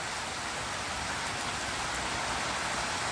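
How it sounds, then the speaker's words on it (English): Steady rain falls in July, a dense, even hiss of drops on surfaces that stays constant and moderately quiet throughout with no voices. "What is it with the rain in July?"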